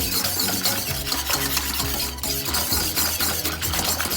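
Dessert mixture being stirred briskly with boiled water, a dense continuous swishing and scraping close up, with a rhythmic low churning and no voices.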